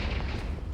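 Confringo explosive spell blast in Hogwarts Legacy, a single dense, loud boom filling the brief moment with broad rumbling noise.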